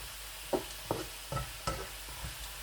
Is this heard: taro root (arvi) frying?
yes